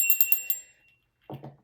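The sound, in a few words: cleansing bell ringing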